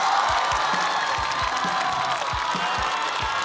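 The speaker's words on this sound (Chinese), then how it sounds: "掌声有请" Steady applause from a comedy-show audience as the next stand-up performer is called to the stage, a dense continuous wash of clapping with some low thumps underneath.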